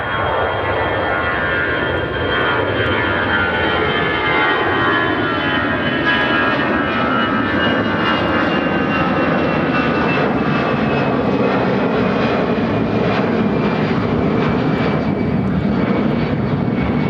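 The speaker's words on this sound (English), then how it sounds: "taking off to Philadelphia on the A319" An Airbus A319 airliner takes off at Chicago O'Hare, its engines a loud, steady roar that holds for the whole stretch, with a whine sliding gradually lower as the jet climbs away.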